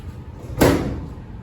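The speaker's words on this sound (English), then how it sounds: "This drawer here." An old kitchen drawer gives one sharp, close knock as it slides shut. A short rattle decays quickly into a quiet room.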